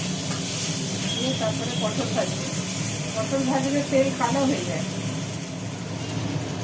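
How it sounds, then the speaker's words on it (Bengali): Potatoes fry in oil for a fish curry meal, giving a steady broadband hiss that runs throughout under a voice speaking. "ওই তেলের ওপরেই আলুগুলোকে ভেজে নেওয়া হচ্ছে"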